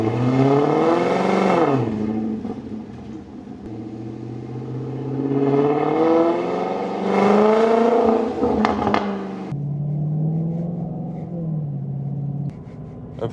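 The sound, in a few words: Maserati Quattroporte M139 driving after jump start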